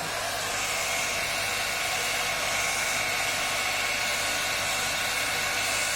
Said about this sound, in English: So I have taken this dryer or heat gun